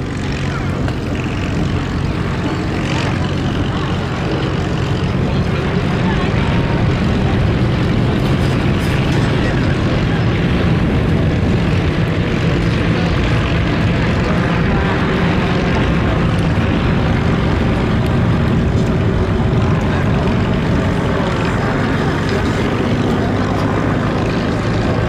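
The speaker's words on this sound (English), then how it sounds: "listen to those gorgeous 130 horsepower De Havilland Gypsy Major engines." Tiger Moth biplanes with 130 horsepower de Havilland Gipsy Major engines pass at an airshow, producing a continuous, fairly loud propeller-engine drone that holds steady throughout, with broadband wind-like roar and no clear talk.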